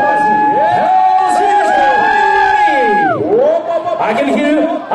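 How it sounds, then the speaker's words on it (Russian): Concert crowd cheering and whooping as a performer comes on stage, loud and close, with a host's amplified voice sliding over the noise before the cheers thin out near the end. "аплодируем"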